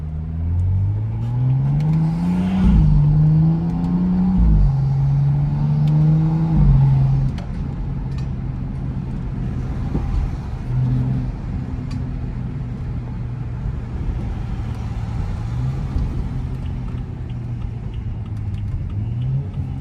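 A Ford Ranger Raptor engine in South African rush-hour traffic, heard from a nearby car: a loud rising-and-falling rev with harmonic engine tones in the first seven seconds, then a steady low rumble and whir of traffic.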